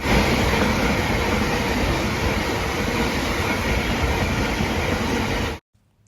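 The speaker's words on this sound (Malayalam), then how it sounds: "അങ്ങനെ ഞങ്ങൾ ട്രെയിൻ വന്നു കേട്ടോ." A London train roars loudly and continuously at close range with dense rumbling wheel noise, then cuts off abruptly near the end, with no voices.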